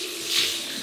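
Cold water running and splashing as a face is rinsed after a wet shave, a steady hiss of flowing tap water close by with a slight swell midway, no voices.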